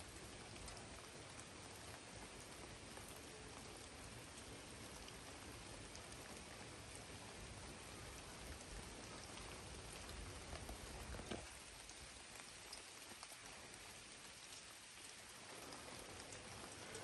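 Heavy rain during a thunderstorm falls in a dense, steady hiss that stays loud and unbroken throughout, with no talk.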